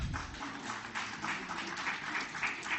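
An audience at an industrial safety convention awards ceremony claps for the winners, a moderate, steady patter of many hands heard somewhat distant in a large hall, with slight swells but no pause.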